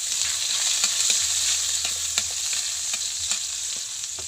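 Onion and garlic sautéing in hot oil for adobong silaw/balatong, a steady close sizzle with scattered crackles and a few scrapes of stirring throughout.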